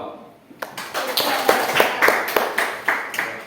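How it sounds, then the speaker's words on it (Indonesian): A classroom audience claps for a group's presentation, a burst of steady, fairly close applause from several people starting after a brief quiet moment and continuing with uneven hand claps. "Kita berikan aplaus untuk penyampaian dari kelompok 2"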